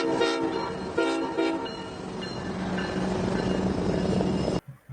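A freight train hauling tanks rolls into Washington, D.C., a steady rumbling roar of rail cars with a sustained horn-like tone over it, loud and continuous before cutting off abruptly.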